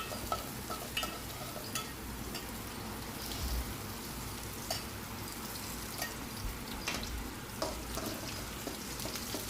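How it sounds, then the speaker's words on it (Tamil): Okra and onions sauté in a pan, a faint continuous frying crackle under soft, rhythmic spatula scrapes and taps recurring every second or so. "வெண்டைக்காய் வதங்கிடுச்சு, பக்கத்தில் வெங்காயம் வதங்கிட்டுருக்குது."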